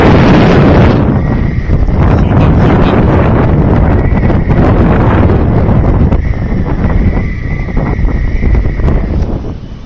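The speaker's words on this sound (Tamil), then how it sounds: "காற்று கொஞ்சம் ஓவராக இருக்கும்" Strong wind near Sorimuthu Ayyanar Temple in Papanasam buffets the microphone in loud, continuous low rumbling gusts, with faint high tones and scattered clatter in the background.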